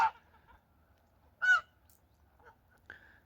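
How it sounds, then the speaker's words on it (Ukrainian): A gander in a farmyard gives a few short, loud honks spaced apart, the clearest one in the middle, with quiet pauses between them. "Ось гусак щось там починає стартувати"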